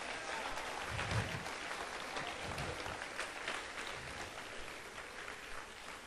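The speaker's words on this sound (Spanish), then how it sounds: "Démosle un aplauso a Jesús porque hace hambre." A church congregation at a Pentecostal service breaks into sustained applause, a dense wash of clapping from a large crowd that stays steady and loud for about six seconds with no clear speech on top.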